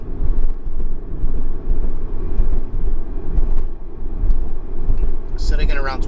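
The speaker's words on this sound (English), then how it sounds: "Give you a demonstration of this exhaust with the windows up." Remark exhaust on a Mazda ND MX-5 Miata cruising in 4th gear near 2,500 RPM with the windows up, a low steady rumble heard from inside the cabin with road noise and a brief burst of talk at the end.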